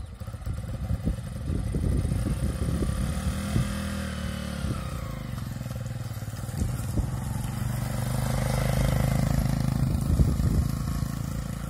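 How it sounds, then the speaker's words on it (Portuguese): Motorcycle engine running a rural sugarcane mill on a rapadura-making day, a rough clattering mid-distance drone with irregular knocks, its tone sagging and labouring toward the end as load increases. "Funcionando a moto."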